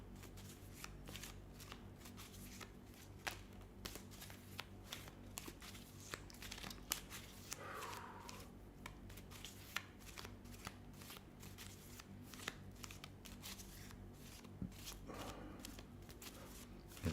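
Tarot cards being shuffled over and over, a steady stream of papery riffles and light snaps with occasional crinkling, quiet and close against a low background hum.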